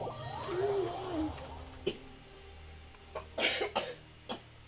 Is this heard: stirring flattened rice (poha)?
no